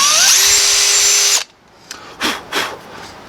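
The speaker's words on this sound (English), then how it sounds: "I think I see where I intended to drill" A high-pitched power drill whines steadily for over a second, drilling a small pilot hole in a Denso starter solenoid contact from a 1983 Toyota pickup, then stops abruptly, followed by a few faint scraping and tapping sounds.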